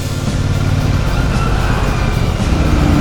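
Traffic rolls past on a road beside a Royal Enfield Super Meteor 650, making a loud, steady engine and tyre roar that holds constant for about three seconds.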